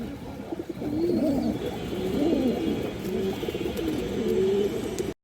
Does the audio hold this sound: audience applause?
no